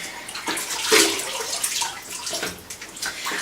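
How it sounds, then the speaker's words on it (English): A horse's bridle bit is washed in warm water, with continuous splashing and sloshing and brief stronger swishes, close and fairly loud. "I just always tend to wash my bits in just warm water."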